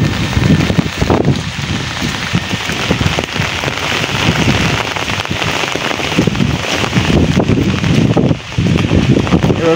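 Heavy rain pours down during a storm in Rajbari district, a loud, unbroken hiss of drops striking surfaces, with gusts of wind rising and falling.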